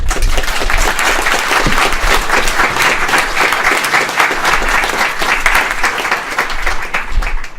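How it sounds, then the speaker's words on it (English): A conference audience breaks into loud, sustained applause after a tech talk on augmented reality in the browser, dense clapping from a large room holding steady for several seconds. "Quick round of applause"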